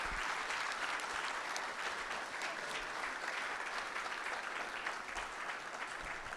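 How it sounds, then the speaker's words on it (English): Conference audience at a security event applauding the board and volunteers, a faint, distant, even roll of clapping from a large crowd that holds steady throughout. "So I just want to give a big round of applause for our board of directors and our volunteers here."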